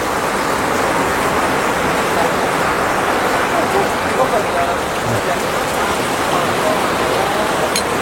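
Steady, loud rain pours down outdoors at a fried-rice food stall, a dense continuous hiss with faint traffic beneath it throughout.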